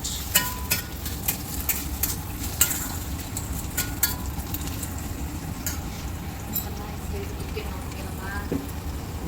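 Onion and capsicum fry in a pan for Gobi Manchurian with a steady sizzle, broken by sharp scrapes and clinks of stirring, while a voice talks over it.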